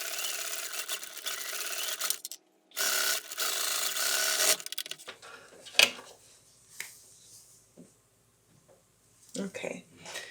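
A sewing machine stitches mittens in bursts of rapid mechanical whirring, loudest early and then quieter and intermittent with handling noises, heard close up with some talk around it.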